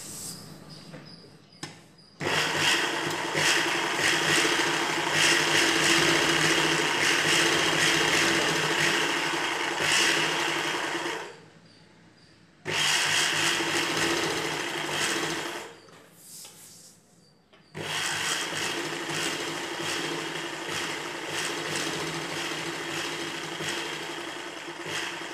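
Sewing machine stitching a ghagra choli, running in three long steady bursts separated by short pauses, close and fairly loud with a busy mechanical whir and no talking.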